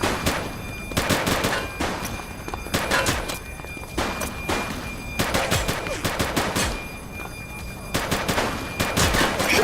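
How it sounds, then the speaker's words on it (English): Gunfire from The Precinct video game, a police setting: repeated loud clusters of sharp shots in rapid bursts with short pauses between them, close and dominant. "Shots fired!"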